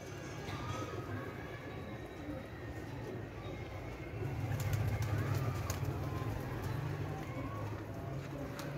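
Golden Teddy pigeons coo softly amid outdoor rumble and background noise, with a low steady hum joining partway through.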